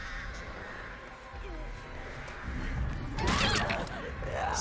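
A crow caws inside Dead by Daylight, with harsh calls bursting near the end over steady game ambience while players talk.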